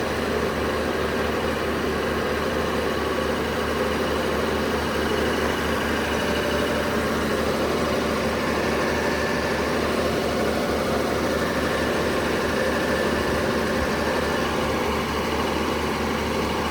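A generator engine idles steadily with a low, even rumble and vibration, continuous and close throughout, without any talking.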